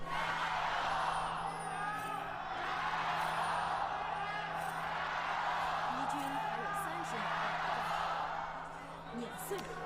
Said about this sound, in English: Both crowds turning up today.